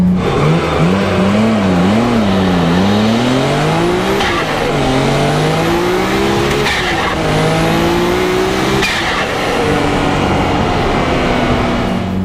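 A heavily modified Nissan R32 Skyline GT-R with a 2.6-litre twin-turbo engine revs hard and loud, its pitch climbing and falling in repeated sweeps, with sharp pops and crackles between the pulls.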